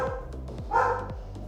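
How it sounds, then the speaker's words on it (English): A dog barks three or four times in a kitchen, short sharp barks that are moderately close but not loud, with a slightly longer yelp in the middle and no talk over them. "This freaking dog."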